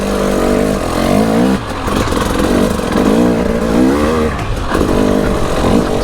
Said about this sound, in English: You forget how cool a two-stroke is and how capable it is.